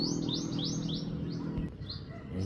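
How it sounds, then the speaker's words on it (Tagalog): Small birds chirp in a garden outdoors, repeated short tweets at a moderate distance over a low, steady background hum. "Yun, ibon."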